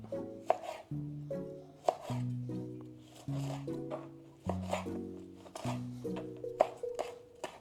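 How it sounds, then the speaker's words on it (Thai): Chili peppers chopped with a knife on a cutting board while making stir-fried kale with crispy pork; steady, evenly spaced strokes, fairly quiet, over soft background music. "แต่พริกต้องหั่นนิดนึงนะ"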